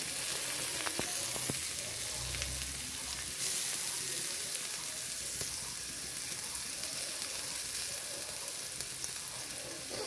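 Onions frying in oil for an Assamese fish curry, a steady close sizzle with faint crackles and occasional stirring clinks throughout, no talk.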